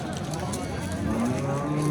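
Cattle at the Andijan Yakkatut livestock market, with a low, drawn-out moo rising near the end over a busy crowd murmur and background voices.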